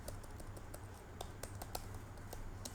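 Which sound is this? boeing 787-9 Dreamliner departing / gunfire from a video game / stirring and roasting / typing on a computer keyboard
typing on a computer keyboard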